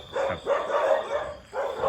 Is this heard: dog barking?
yes